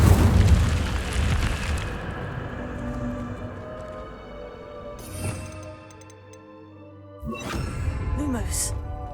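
Incendio fire spell cast in the Hogwarts Legacy video game: a loud whooshing burst of flame that decays over a couple of seconds, followed by further magical bursts and shimmering effects.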